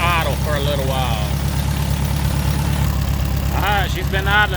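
A tractor engine idles steadily at close range after a new radiator install, its low, even rumble running throughout while people talk over it.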